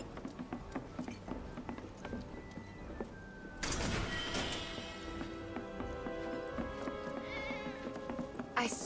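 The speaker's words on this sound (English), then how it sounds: "I swear I just heard a cat." A cat meowing in the video game Final Fantasy VII Remake, faint calls among clicks, tapping and sliding game sounds, with a louder swell of ambient game noise partway through.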